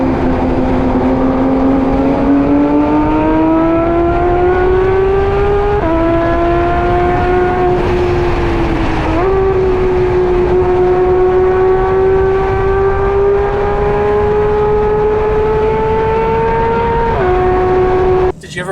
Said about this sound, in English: the sound of the engine downshifting and upshifting was just like